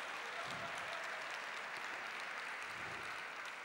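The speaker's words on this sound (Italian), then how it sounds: "The crowd roared with laughter and applause." Crowd applause for a speech by Pope Francis, a dense continuous wash of clapping hands that holds steady and loud throughout, with no voices rising above it.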